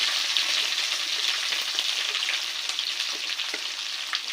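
Green chillies fry in hot oil in a pan for potato palya, a dense bright sizzle with crackling pops, steady and close before easing slightly.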